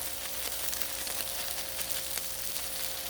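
Chopped dehydrated onion sizzles steadily on a hot Blackstone griddle during a smash burger cook, a soft continuous crackle with faint pops, fairly quiet and with no voices.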